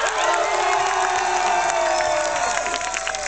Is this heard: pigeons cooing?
no